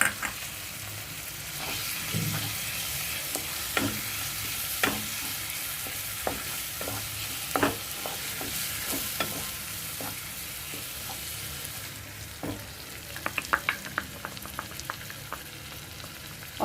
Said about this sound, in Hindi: और अब इसको ऑयल सेपरेट होने तक भूनने देंगे।